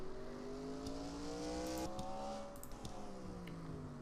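Race car engine in a racing video game during a final lap, steady high-revving whine with rising and falling pitch sweeps, loud and continuous with no talk over it.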